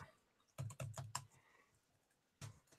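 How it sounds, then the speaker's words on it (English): Fingers type on a computer keyboard during a live online tasting, with a quick run of close, crisp key clacks followed by a pause and one more short burst of keystrokes. "You can type away."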